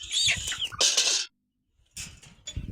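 Chickens cluck and squawk in short bursts close by on a goat farm, with a brief quiet gap before more clucking.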